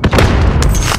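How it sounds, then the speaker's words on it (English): A rocket explodes in a shooter video game with a loud, close boom, followed by a second blast burst about half a second later. "He's shooting rockets at me, bro."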